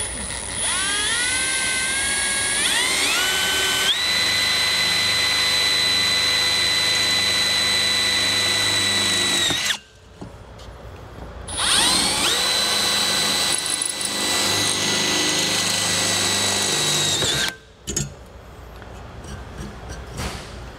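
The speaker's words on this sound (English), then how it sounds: "I'm gonna go ahead and drill our hole for our screw" A loud power drill whines steadily, rising in pitch as it spins up, stopping briefly and then running again in two long bursts up close, drilling a screw hole to mount an RV ladder.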